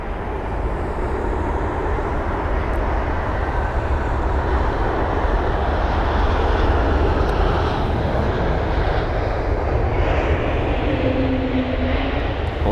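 A Swiss airliner, registration HB-JCI, flight LX356 from Geneva, lands at London Heathrow with a loud, continuous jet engine roar and rumble that holds steady throughout, with no voices.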